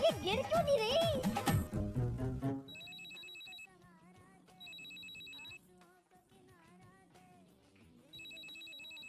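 A telephone ringing with short repeated electronic trills in evenly spaced bursts, preceded by loud music and voices that give way to quieter background sounds between the rings.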